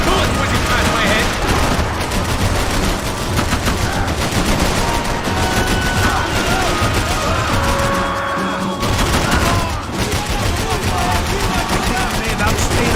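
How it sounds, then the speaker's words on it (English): Gunfire in the video game Max Payne 3: dense, loud automatic fire that runs almost without pause, with rattling bursts and crashes packed together and voices mixed in. "I can't concentrate with bullets whizzing past my head"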